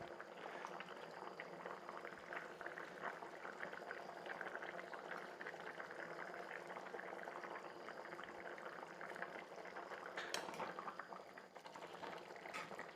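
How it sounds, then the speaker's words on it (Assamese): Fish curry with bamboo shoot bubbles at a steady boil in a pot, a faint, continuous simmering burble heard alone. "উতলটো আহিছে, মই মাছখিনি দি যাম ইয়াত।"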